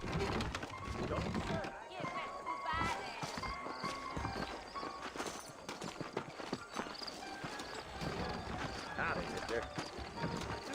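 Steady clip-clop of horse hooves in the video game Red Dead Redemption, set in New Orleans, a fairly quiet rhythmic trotting that runs throughout beneath people talking.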